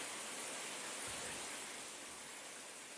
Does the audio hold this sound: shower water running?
yes